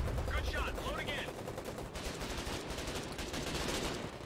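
Rapid gunfire fills a battle scene in the war game Foxhole, with bursts of shots over a loud, continuous din of combat and faint voices mixed in.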